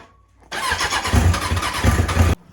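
A used, worn superbike engine cranks and catches, then runs with a loud, rough, throbbing note for about two seconds before abruptly cutting off.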